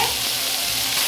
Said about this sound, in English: in goes the pork. Then, sizzling away,